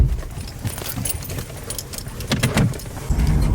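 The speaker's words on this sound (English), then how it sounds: "Need some keys." Keys jangling up close in a garage around a C7 Corvette, a few bright metallic rattles over a steady low background rumble, with faint vehicle noise.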